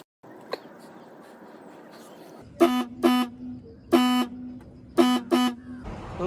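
A Pulsar 220F motorcycle horn being tested, with faulty horns, sounds in several short loud honks after a stretch of low background noise, with a voice heard early on.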